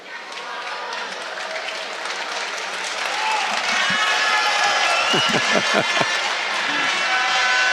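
Georgian crowd at a judo Grand Prix in Tbilisi applauding, a broad wash of clapping that swells and grows denser toward the end, with a few sharp claps close by.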